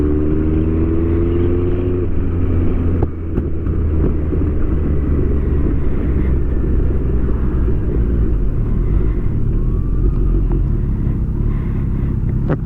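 Kawasaki GTR1400 motorcycle fitted with a Delkevic full exhaust system, riding at low revs around 50 km/h: a steady, loud, close engine drone and rumble holding for the whole stretch, with a brief dip early on.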